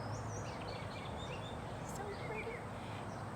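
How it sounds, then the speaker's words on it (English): Birds sing and chirp outdoors with faint, high, scattered calls against a steady background hiss, distant and soft, with no talking over them. "Do you hear those birds?"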